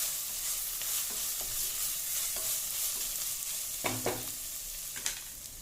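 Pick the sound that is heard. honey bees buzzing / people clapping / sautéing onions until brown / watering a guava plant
sautéing onions until brown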